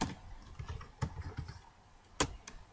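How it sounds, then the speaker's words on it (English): A short command is typed on a computer keyboard in a terminal, a handful of crisp, separate key clicks with uneven gaps, close and quiet, ending with a sharper keystroke. "we're going to type in cd // space / Grails"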